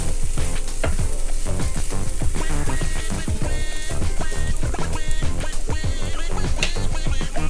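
Kerala-style beetroot stir fry with curry leaves sizzles steadily in a hot pan, crackling and spattering continuously as it is stirred, with no talking.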